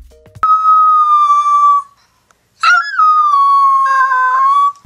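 A Dachshund lets out two long, loud, drawn-out howls close by, separated by a short silence.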